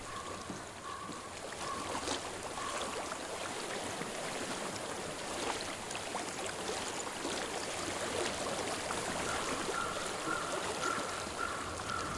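Steady stream water flowing in the video game Hellblade: Senua's Sacrifice, a constant broadband rush of moving water holding even across the whole stretch, with faint tonal ambience layered underneath and no voices.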